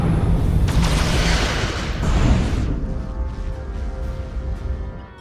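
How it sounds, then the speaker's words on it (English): Photon torpedoes fired from a starship in Star Trek: Resurgence, a loud roaring launch swelling into a heavy rumbling explosion that fades away with a faint ringing tail. "Fire photon torpedoes!"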